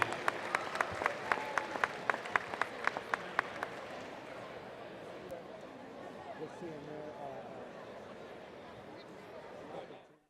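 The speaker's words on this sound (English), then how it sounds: "One more round of applause, and thank you." Basketball crowd at a Mid Penn boys playoff game giving a round of applause, opening with a run of sharp rhythmic claps that blend into a broad, sustained clapping and cheering wash in a large gym.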